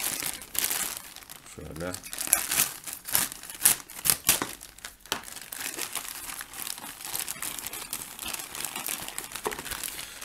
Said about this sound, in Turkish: Son olarak şu paketimizi açalım.